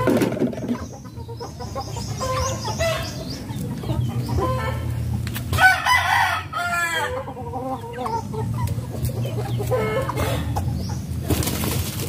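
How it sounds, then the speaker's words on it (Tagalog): A fierce rooster near its cage crows repeatedly, its loud strained calls rising over steady clucking and other fowl noise, close and continuous with no talking. "mabagsik na manok. Yung pinaka mabagsik."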